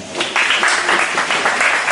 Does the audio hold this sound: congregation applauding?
yes